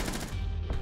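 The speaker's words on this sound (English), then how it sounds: "Boom, headshot." A fast burst of gunfire in Rainbow Six Siege landing a headshot, short and fairly quiet, a quick rattle of rapid shots in under a second.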